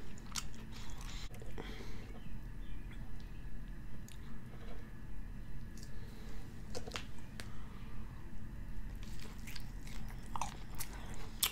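Close-up chewing and biting of a Rally's bacon French onion steak burger and fries, with soft rhythmic mastication, moist squishes and occasional sharp crunches throughout.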